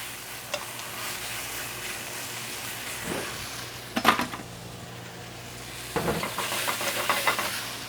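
Garlic and onions sauté in a pan, a steady soft sizzle broken by a few louder scraping stirs near the middle and end, with no one talking.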